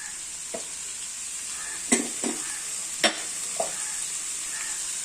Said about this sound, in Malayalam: നല്ലതুപോലെ ഉള്ളി വഴറ്റണം അതിനകത്ത് നമുക്ക് വഴറ്റാൻ വേണ്ടി